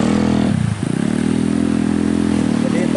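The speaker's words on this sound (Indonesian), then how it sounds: "ada lagi motor ya" A motorcycle runs along a village road beside a river in rural Sunda, Indonesia, its steady mid-pitched engine drone loud and close, with a brief dip and clatter before the hum holds on.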